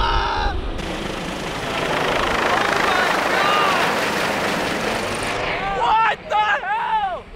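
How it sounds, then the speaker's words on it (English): A helicopter takes off close by at a large private estate with a backyard go-kart track, its loud, steady rotor and engine roar filling several seconds before fading as excited voices shout over it. "the helicopter's taking off"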